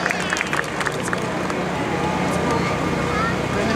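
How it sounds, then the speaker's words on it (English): Outdoor crowd clapping at a military air show open house after a vintage SB2C Helldiver demonstration, a broad steady patter of applause blended with crowd murmur and a voice speaking over it. "Would you join me in a nice round of applause for the demonstration of the world's only flying Helldiver"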